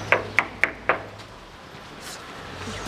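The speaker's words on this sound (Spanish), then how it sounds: "Se acercó a casa de la abuelita y llamó a la puerta." Four evenly spaced knocks on the door of a grandmother's house, told in the Little Red Riding Hood fairy tale. The raps are sharp and fairly close, followed by quiet room tone.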